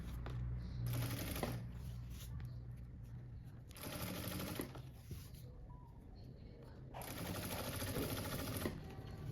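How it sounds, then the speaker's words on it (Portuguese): A sewing machine stitches the seam of a backpack from the very tip of the fabric, running in three sustained bursts with short pauses between them, close and steady with no talk. "Vou começar a costura bem na pontinha mesmo, já."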